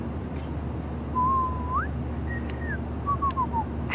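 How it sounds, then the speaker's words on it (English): Someone whistles a few short notes in the video game Life is Strange, a long slide upward then a quick descending run, softly over a low steady hum. "Do you mind not whistling?"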